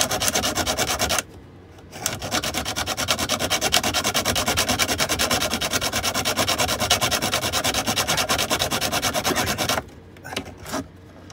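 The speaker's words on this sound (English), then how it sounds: "hacksaw blade in there and just saw through the screw" A sawn-off hacksaw blade cuts through a screw inside a shut cupboard, making a close, steady rasping stroke after stroke, with a brief pause near the start and scratchy stops toward the end.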